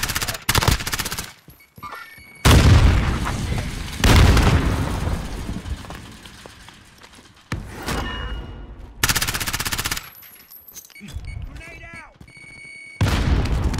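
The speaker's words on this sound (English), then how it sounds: "I hit him with that grenade." Call of Duty Warzone match with heavy booming explosions and bursts of rapid gunfire in repeated loud waves, broken by quieter gaps, with players talking over the action.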